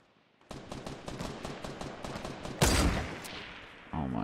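Video game gunfire bursts out in rapid, evenly spaced shots after a brief quiet start, rising into a louder blast partway through and continuing close and loud with no talk.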